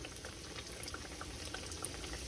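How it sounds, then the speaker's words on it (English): Quiet, steady sizzling and bubbling of chicken cutlets frying in hot oil, a soft continuous crackle with tiny pops. "And you see how they're already frying, right? It's frying nice."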